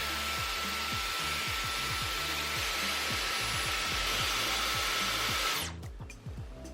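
Dyson Airwrap hair styler blowing air over a thin, inch-wide section of long hair to dry a curl: a loud, steady whoosh with a low pulsing hum for nearly six seconds before it cuts off.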